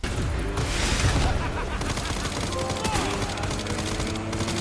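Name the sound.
gunshots in video game Resident Evil Requiem motorcycle fight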